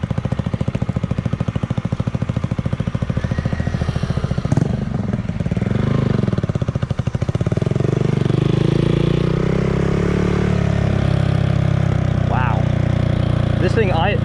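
A Kawasaki Z125 motorcycle idles with a steady, close engine putter that runs under people talking through the whole stretch, with a brief blip of revving partway in.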